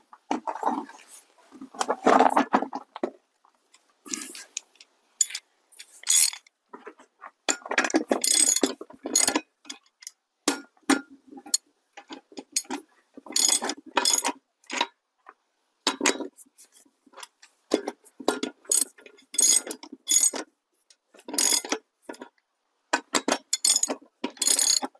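Adjusting the wheel track on a Solis 26 tractor brings irregular bursts of metallic ratcheting and clanking from tightening, close and fairly loud, separated by short silent gaps over about twenty-five seconds, with no speech.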